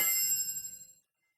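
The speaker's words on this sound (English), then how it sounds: "We can take you from a pin drop" A single pin drop effect from an IMAX surround sound demo: one bright, metallic ping that rings and fades away within about a second, heard alone, followed by silence.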